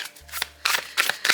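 A deck of playing cards being shuffled by hand, three quick bursts of riffling and rustling close to the microphone with a steady low hum underneath.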